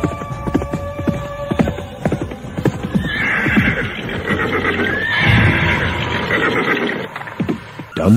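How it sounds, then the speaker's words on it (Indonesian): A white horse's hooves clip-clop to a stop in a radio drama set on a quiet night, followed by a long, loud neigh over a low background hum. "Serentak kuda itu pun berhenti. Ringkiknya membelah sepi malam."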